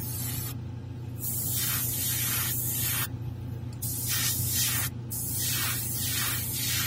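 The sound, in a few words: spray painting with clear paint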